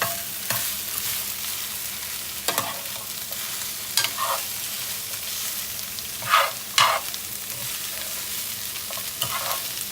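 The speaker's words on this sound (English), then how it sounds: "Gonna add our green beans. Let's mix these up already" Green beans stirred in a hot frying pan for vegan soy chorizo, a steady sizzle broken by several sharp scraping and clattering strokes of the spoon against the pan, close and alone.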